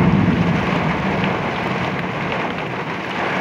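A heavy summer rainstorm that rolled in suddenly, with steady, dense rain roaring continuously and loudly in windy conditions, with no talk.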